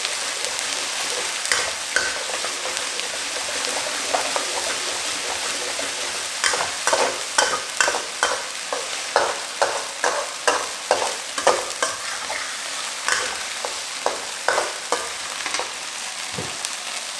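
Prawn bhuna with mushrooms and red pepper being stir-fried: an ongoing sizzle beneath a brisk, repeated run of spatula scrapes and knocks against the pan, denser in the middle stretch, close and without speech.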